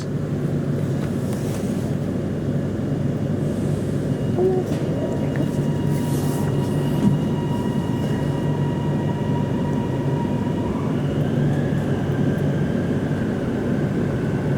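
Inside an HCMT train running from Flinders Street to Dandenong, a continuous loud low rumble carries a steady rising motor whine, with faint muffled voices in the background.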